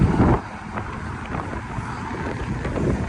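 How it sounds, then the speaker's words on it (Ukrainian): Strong gusting wind along a river embankment in a Kyiv park, a loud continuous roar buffeting the microphone, heaviest at the start and then steady with low rumbling gusts. "Ось один такий ураган."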